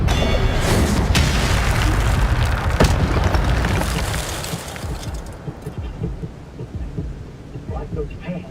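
Spell cast in Hogwarts Legacy, a loud crackling magical burst with a booming, rumbling impact that roars for several seconds, then fades into a softer sustained crackle.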